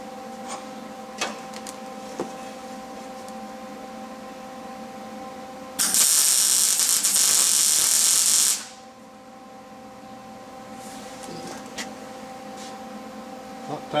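A tack weld joins a bevelled piece to a handle as a single loud, harsh buzzing burst of about three seconds, standing out over a steady low workshop hum.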